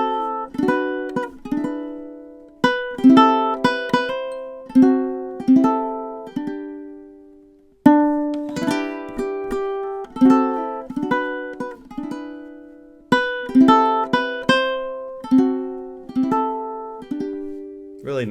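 High G ukulele plays a jazzy arrangement of Oh Christmas Tree, with crisp plucked and strummed chords ringing out and decaying in a steady, unhurried phrasing, played solo and close without talk.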